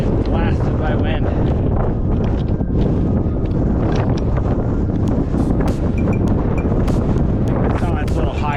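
Strong wind on a high mountain ridge of Mt Sherman, a Colorado fourteener, roars continuously and loudly against the microphone, buffeting without pause for the whole stretch.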